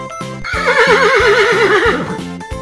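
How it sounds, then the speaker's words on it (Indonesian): A horse gives one long, loud, quavering whinny over rhythmic clip-clop hooves, close and clear with no talking. "Kuda."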